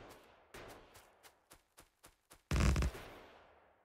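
Sniper turrets firing in Factorio, a series of sharp, evenly spaced gunshot cracks followed by one much louder burst that dies away into silence.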